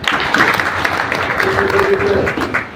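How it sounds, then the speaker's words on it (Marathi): A seated crowd at a civic felicitation event applauds youth wing office-bearers, a dense steady clapping that fills the space at full loudness, with a voice briefly audible underneath. "एकदा सर्वजण टाळ्या वाजवा"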